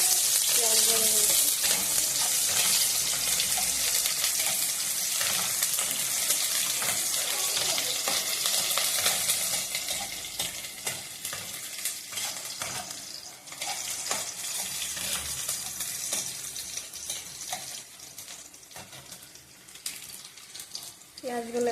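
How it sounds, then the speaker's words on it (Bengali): Onions with a little garlic frying in a pan, a dense crackling sizzle that is loud at first and then eases somewhat, continuing steadily with occasional louder bursts, with brief speech now and then. "পেঁয়াজগুলো একটু লাল লাল ফ্রাই হয়ে আসলে"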